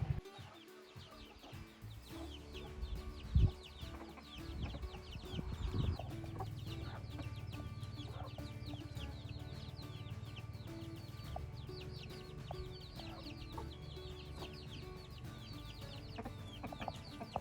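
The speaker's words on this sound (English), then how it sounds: "Our hens hatched, I think 7 baby chicks now." Hens clucking with baby chicks about two weeks old and a rooster on a homestead, steady overlapping clucks and soft peeps close by, continuous through the clip with no talking.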